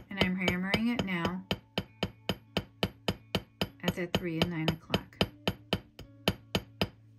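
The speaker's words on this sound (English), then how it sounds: "and I'm hammering it now" A metal jewelry piece for a cicada necklace is struck repeatedly with a hammer: sharp, evenly spaced ringing taps, about twenty in a row, while someone talks over the first part.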